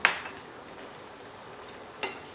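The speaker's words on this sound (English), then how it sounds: "Just give it a nice stir." Vegetable stock and coconut milk are stirred into a Thai mushroom and eggplant curry. A spoon clinks sharply against the pot once at the start and again near the end, with a quiet low bubble in between and no talking.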